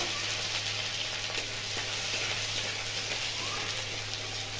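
Ginger paste frying in oil with cumin seeds and asafoetida for cabbage ghonto, an even close sizzle and crackle that holds steady throughout, with a low hum underneath.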